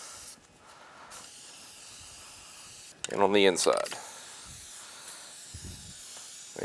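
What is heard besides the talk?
aerosol filter oil spraying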